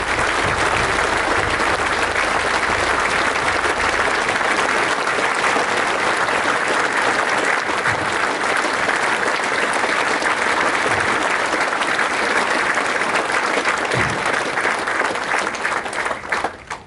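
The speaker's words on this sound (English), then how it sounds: "please give a warm round of applause for all of our recipients" Sustained, loud applause from a large audience at a Medal of Valor awards ceremony, steady clapping filling the room with no break for nearly seventeen seconds.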